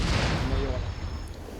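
Booming mortar and gunfire in a military PvP video game match, a continuous rumbling barrage of dense low thuds lasting throughout, with voices faintly present underneath.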